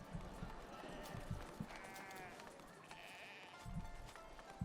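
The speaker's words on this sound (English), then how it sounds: "And then there's some sheep over here, too." Sheep in the farming area of a Foundation game settlement bleat a few times in short wavering calls over a soft game ambience, with no talk during the calls.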